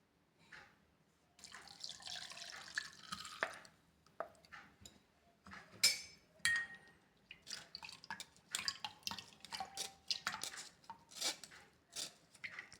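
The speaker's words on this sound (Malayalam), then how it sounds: "നമുക്കിത് അരിക്കാം." Blended neem, ginger and chili juice being strained, with irregular drips and splashes of liquid and clinks of a utensil against a vessel, close and fairly quiet, no talking.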